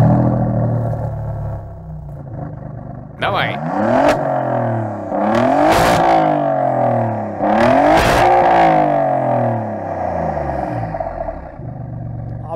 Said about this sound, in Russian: Альфа поставили вот эту роскошную титановую выхлопную систему от Акрапович, расположенную по центру.